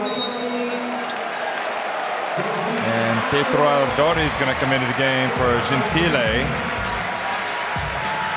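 Crowd applause rises in a basketball arena during a substitution at a FIBA Olympic qualifying game between Mexico and Italy in Turin, a steady clapping wash under a commentator's voice.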